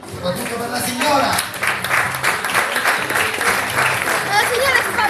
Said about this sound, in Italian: Applauso, soprattutto per la signora.